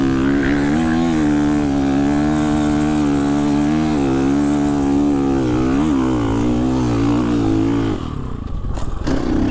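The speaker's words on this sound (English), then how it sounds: "I'll do this hill climb on all three bikes right here" A 450 dirt bike climbs an off-road hill in second gear, its engine droning loud and steady with rising and falling pitch, then cutting off abruptly near the end as wind and rustling take over.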